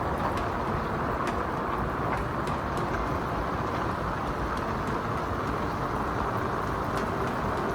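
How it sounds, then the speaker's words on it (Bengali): Heavy monsoon rain pours steadily on the trek to the double-decker living root bridge near Cherrapunji, Meghalaya, a dense, unbroken roar of close downpour with no voices. "কারণ প্রচুর বৃষ্টি"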